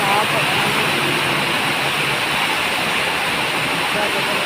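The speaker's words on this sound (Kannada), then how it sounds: "ಸಿಕ್ಕಾಪಟ್ಟೆ ಮಳೆ ಬರ್ತಾ ಇದೆ ಗೈಸ್." Heavy rain pouring down, a loud, dense, unbroken roar filling the whole stretch, with a voice talking faintly beneath it.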